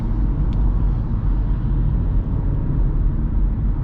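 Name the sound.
2023 Kia Forte LXS driving on the freeway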